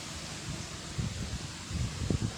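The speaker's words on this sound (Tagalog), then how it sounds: "lakas ng hangin." Strong typhoon wind during Typhoon Kristine buffets the microphone, a steady low rumble with gusty surges that swell toward the end, heard outdoors with no talking.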